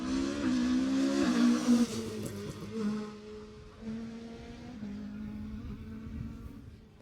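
A rally car on a Jersey Rally stage comes in loud with a revving engine, then passes and fades as it changes gear and holds a steady drone into the distance.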